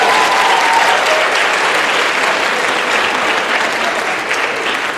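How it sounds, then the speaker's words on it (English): Audience applause at a student cultural performance, dense sustained clapping from a large crowd filling the whole span at a steady loud level, with some voices mixed in. "can we please give them another round of applause?"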